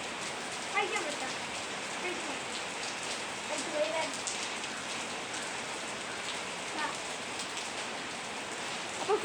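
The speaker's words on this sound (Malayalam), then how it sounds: "അപ്പോഴാണ് മഴ പെയ്യുന്നത്." Steady rain falls in a dense, even hiss that stays fairly soft and constant throughout, with faint scattered drips and occasional quiet voices beneath it.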